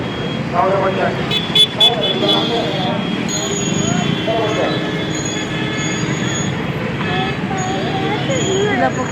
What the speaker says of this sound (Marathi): इथे खूप ट्रॅफिक होत असते